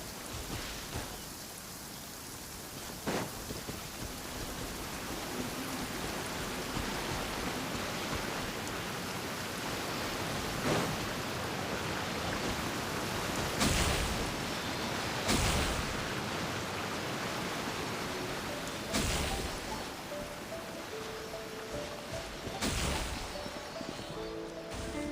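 Steady rain falls in the video game Genshin Impact, a continuous hiss of drops on the surface that holds evenly throughout, broken by a few brief sharp accents.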